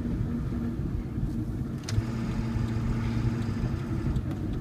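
Interior drone of a 2002 Ford F350 dually pickup with a 7.3L diesel engine driving along the road, a steady low rumble with engine tones and one brief knock midway.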